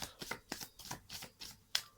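A deck of tarot cards is shuffled by hand in a quiet room, a run of soft, crisp riffles and slaps coming in quick bursts at a steady pace, close and alone.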